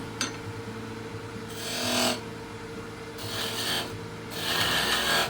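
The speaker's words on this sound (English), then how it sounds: "I start carefully using just the tip of the Skew Chisel to create a bit of space." A skew chisel cuts a wooden egg turning on a lathe, three rasping cutting passes rising over the lathe's steady motor hum, close and moderately loud, no talk.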